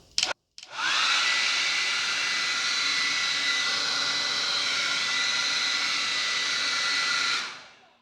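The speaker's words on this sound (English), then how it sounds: "So I'm going to turn this hair dryer on." A hair dryer plugged into a wall outlet switches on after a brief click and runs as a steady, loud rushing whir for about seven seconds before winding down.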